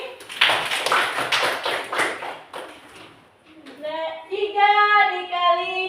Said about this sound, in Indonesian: Tepuk tangan buat Lutfi.